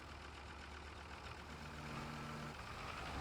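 A tractor engine runs steadily in Farming Simulator 25, a continuous low idling rumble with a faint mid-pitched tone rising for a moment, heard alone at a constant moderate level.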